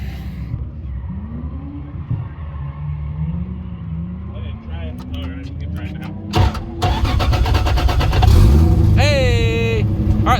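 A Toyota JZX100 engine cranks with a whining starter for several seconds, catches and fires into a loud, close idle that rises in revs. People talk over it throughout.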